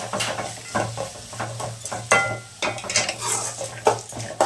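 Onions frying in a pan with turmeric powder, stirred with a metal spoon that scrapes and clanks against the pan in irregular bursts over a soft, steady sizzle.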